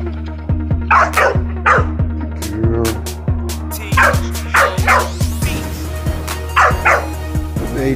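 A working dog barks repeatedly at close range in sharp, loud bursts, mixing deep barks with higher yips at uneven intervals.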